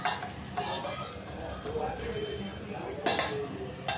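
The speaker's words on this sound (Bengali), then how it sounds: "এইভাবে নাড়াচাড়া করে এবার আমি এটাকে দু মিনিটের জন্য ঢাকা দিয়ে দিচ্ছি" Crab and potato curry vegetables being stirred in a pan, a steady scraping and soft sizzle with a few louder clinks of the utensil against the pan.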